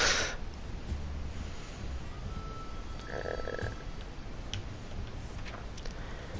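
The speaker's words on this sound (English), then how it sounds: "Our phone booth on our street survived the bombing somehow. It seems it's ringing right now." A street phone booth rings once, briefly and faintly, in the survival video game 60 Seconds, set against a steady ticking background with no voices.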